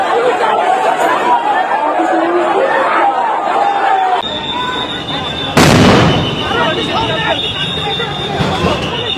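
Sound grenades burst amid brick-throwing clashes between Jagannath University students and police at a street protest near Jamuna, a sharp loud blast cutting through crowd chatter and shouting.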